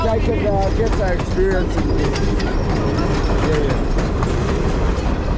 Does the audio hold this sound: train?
yes